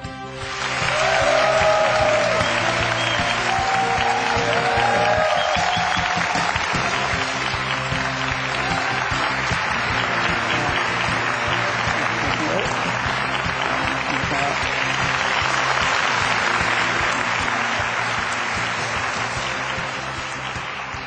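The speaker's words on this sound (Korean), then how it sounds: "힘찬 박수로 환영해 주십시오" Loud, sustained applause from a lecture audience welcoming the CEO of Honam Petrochemical, swelling quickly and holding as a thick, even roar of clapping for about twenty seconds before easing slightly.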